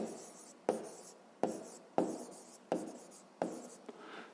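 A pen scratches across paper in repeated strokes, each with a sharp start and a fading tail, roughly every three quarters of a second. The writing is close and quiet with no talk.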